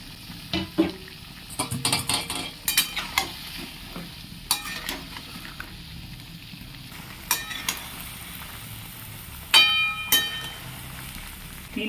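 Cut eggplant and potatoes get stirred with spices in a frying pan, with soft sizzling under repeated scraping strokes and occasional clinks of a utensil against the pan, close by and without speech.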